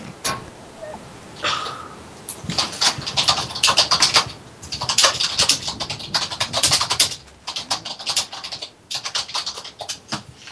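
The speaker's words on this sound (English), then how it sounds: "I like your typing." Rapid keyboard typing clatters in bursts of keystrokes, picked up over a voice chat during a Minecraft server session, with short pauses between the runs.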